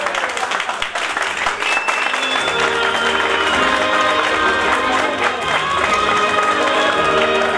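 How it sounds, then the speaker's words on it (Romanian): Guests at a christening party clapping steadily and warmly with some cheering mixed in, sustained and fairly loud throughout. "Nu-i așa, dragi invitați, că merită să-i aplaudați?"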